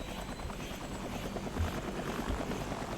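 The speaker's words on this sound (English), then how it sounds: "I'm going to drop down our helicopter." A helicopter in the video game Entropia Universe gives off a steady, close, loud rotor whir with low rhythmic thumping, continuous and heard alone with no talk.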